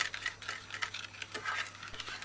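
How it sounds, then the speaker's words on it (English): Spoon stirring a soursop lime drink, quick light clinks and swishes against the container, soft and close. "Stir in drink well."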